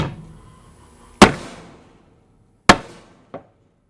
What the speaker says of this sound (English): And once you get to the end, you really got to smash it